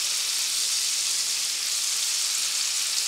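Moose meat steak fries in a pan with a steady, even, close hiss of sizzling fat, quiet and unbroken for a few seconds, with no talking.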